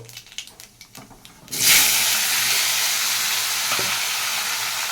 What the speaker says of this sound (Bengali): ফোড়ন দিয়ে আমি পটল আর আলুটাকে ভেজে নেব